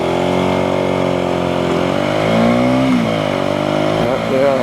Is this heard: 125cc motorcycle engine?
yes